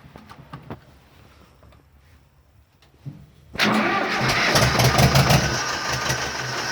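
An Ursus C-330 tractor diesel engine fitted with a compressor is started cold at about 4°C: a few quiet clicks and brief cranking, then the engine catches loudly and settles into a rough, uneven, close running rumble.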